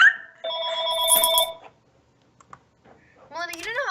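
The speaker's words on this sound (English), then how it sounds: "you don't know how creepy that phone sounds" A phone rings in the Tiny Tanks video game with a bright electronic trill, followed by a pause and then a person talking.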